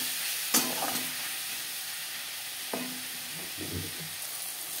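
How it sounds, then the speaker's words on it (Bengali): Onions and tomatoes frying in a pan with salt and turmeric, a quiet, steady sizzle with two distinct spatula knocks and a stretch of stirring scrapes toward the end. "পেঁয়াজ টমেটো ভাজা হয়ে গেছে।"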